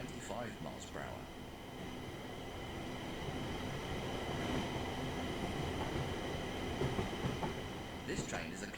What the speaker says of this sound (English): This train is a Class 350/1 electric multiple unit, manufactured between 2004 and 2014, and is part of the Desiro family.